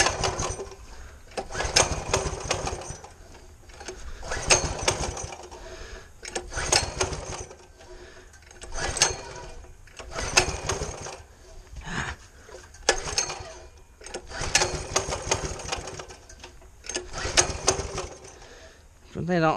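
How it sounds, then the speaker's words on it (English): Mini bike engine cranked repeatedly, each burst of rough sputtering revving lasting a second or two before dying back, struggling to stay running, close and moderately loud. "when it actually crank it up, it don't want to stay running"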